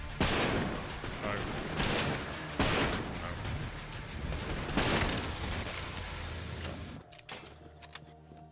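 Gunfire in the video game Trepang 2, dense bursts of rapid shots and booming impacts that fade into scattered clicks and faint shots near the end.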